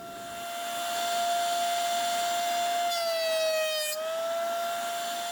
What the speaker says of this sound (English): I'm going to run it through my planer until we can match the level of the wood here to the level of this clear epoxy